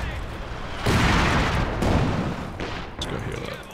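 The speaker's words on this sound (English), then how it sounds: "Nice barrage" An artillery barrage in a WWII video game: heavy, rumbling explosions roll in close succession, loud and sustained, with sharper blasts breaking through near the end.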